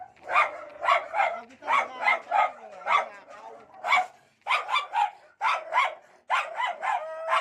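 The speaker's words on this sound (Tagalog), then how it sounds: "Ang tapang-tapang ng aso." A tied-up dog barks repeatedly in quick bursts, close and loud, with brief pauses between volleys and a few yelping, howl-like notes.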